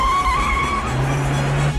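Car chase in a film, with a loud engine roaring and tires squealing and skidding through a brief, continuous burst of motion.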